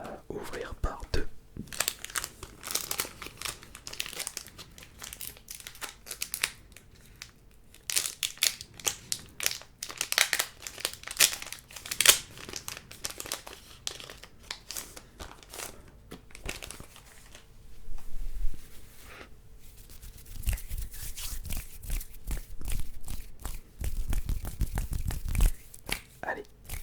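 Pokémon 25th anniversary booster packs being torn open up close, with crisp foil crinkling and ripping in bursts, soft whispering alongside.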